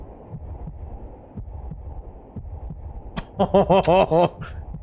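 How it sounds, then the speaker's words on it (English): Heartbeat in the Donkey Kong Bananza video game: a slow, steady low thumping, close and muffled, followed by a higher sung, melodic voice line over the beat. "She's listening to his heartbeat."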